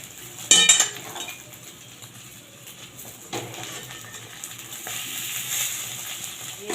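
Omelette of beaten egg frying in a wok over low heat just after being flipped, a steady soft sizzle with a sharp utensil clink near the start and brief scraping stirs later.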